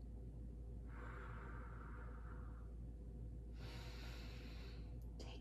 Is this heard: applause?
no